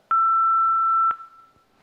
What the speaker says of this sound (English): 1336 is like that.